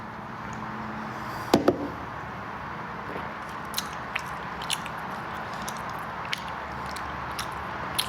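Someone bites into and chews a tomato close to the microphone, with a sharp crunchy bite early on, then soft, wet, intermittent chewing clicks, with no talking.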